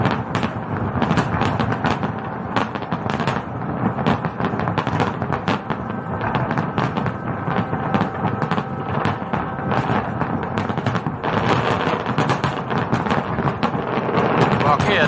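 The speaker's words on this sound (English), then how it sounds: "A little bit of fireworks." A fireworks display crackles and booms as a continuous barrage of rapid bangs and pops, loud and sustained, with faint voices mixed in.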